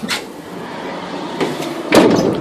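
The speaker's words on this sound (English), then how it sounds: "You also have a side cargo door here" The side cargo door of a 2017 Ford Transit cargo van with a medium roof and 148-inch wheelbase is worked: a sharp knock, a couple of soft clunks, then a louder slam with rattle.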